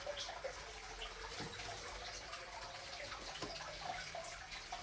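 Water drains and splashes out of a hose during reef tank maintenance, a faint continuous trickling and gurgling with a few soft knocks and drips, without voices.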